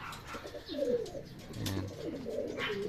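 Racing pigeons coo in a loft, soft repeated low throaty calls rising and falling close by, with other birds chirping faintly in the background and no talk.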